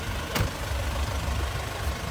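A 2000 Mercedes C-Class with a 2.2 CDI diesel engine and 397,000 km on it idles at a car market, a steady low rumble that runs unbroken with one brief sharp noise near the start.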